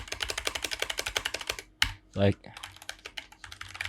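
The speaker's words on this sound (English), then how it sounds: "I figured out that I can just press the slash key on the keyboard" Rapid clatter of keys on a computer keyboard while playing Roblox, fast and close at first, then a brief pause with a short spoken word before sparser key taps resume.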